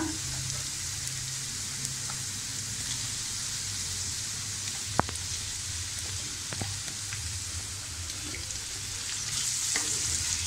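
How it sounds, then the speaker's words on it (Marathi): Tomatoes, garlic and onions frying in a pan for a mushroom and pea masala, with a continuous soft sizzle and a few faint stirring clicks, no speech. "आता त्यात आपण टोमॅटो टाकूया"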